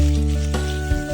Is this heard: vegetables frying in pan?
yes